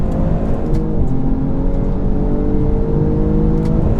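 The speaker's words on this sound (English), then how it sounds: "Loads of wheel spin. And it didn't bog. It didn't bog down." Two tuned cars, a 450 hp BMW M240i and a 460 hp Audi RS3, launching hard with heavy wheel spin; a loud, steady engine roar with rising harmonic whine holds throughout, close and dominant, no talk.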